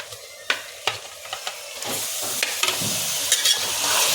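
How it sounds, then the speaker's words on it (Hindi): Chicken sizzles and fries in a hot pan with onions, a steady hiss broken by several sharp clinks and scrapes of a utensil stirring. "चिकन को भी अच्छे से भून लेंगे।"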